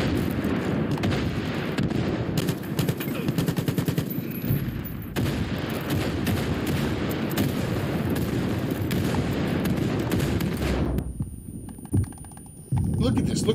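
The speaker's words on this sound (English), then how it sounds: "Look how many fucking sticks of dynamite I'm throwing over there." Far Cry 4 multiplayer combat with thrown sticks of dynamite: a continuous loud barrage of explosions and gunfire-like blasts for over ten seconds, with a voice talking over the chaos.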